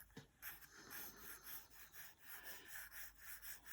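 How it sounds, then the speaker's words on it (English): An eraser rubbing out pencil shading on paper while drawing a nose, a soft continuous scrubbing with rhythmic back-and-forth strokes, close and alone. "I'm just going to rub that out a little bit"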